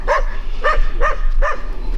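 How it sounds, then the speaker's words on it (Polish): Four sharp barks from a dog in a rural village, evenly spaced about half a second apart, fairly close and loud over a low steady background hum. "Jakiś pies ujada, jak to na wsi."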